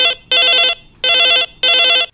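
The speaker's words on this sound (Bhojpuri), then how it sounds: "ये आगे आज के पहली फोन" A telephone rings for an incoming call on a Chhattisgarhi phone-in song request radio show, with three loud, evenly spaced bursts of bright electronic ringing separated by short silences and no voices.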